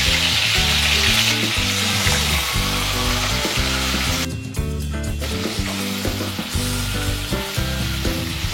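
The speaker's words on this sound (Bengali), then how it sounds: "কড়াইটাকে বসালাম, কাঁকড়াটাকে আগে ভাজবো" Crab coated in turmeric and salt fries in a pan for a Bengali lau kakra curry, a loud, continuous close sizzle beneath background music, with no voices.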